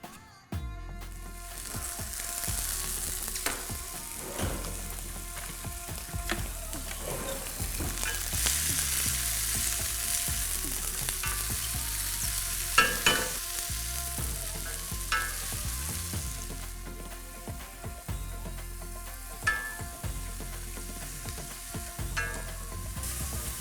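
A pav bhaji paratha fries in ghee on a griddle with a loud, continuous sizzle that swells and crackles as it is pressed and turned, with occasional spatula scrapes and taps.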